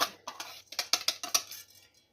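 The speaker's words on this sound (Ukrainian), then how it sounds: "Сухі інгредієнти розмішуємо" Dry ingredients, among them corn or potato starch, stirred in a bowl with a utensil, giving a quick run of light scraping taps and clinks close by, about ten strokes in two seconds with no talk.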